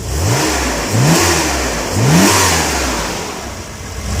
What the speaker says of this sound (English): You'll notice when we rev the engine,